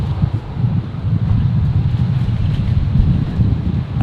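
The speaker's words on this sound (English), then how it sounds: "So currently a 20 knot direct crosswind." A strong 20-knot crosswind at Brisbane Airport buffets the microphone outdoors, producing a continuous loud low rumble and gusty roar with no clear voices.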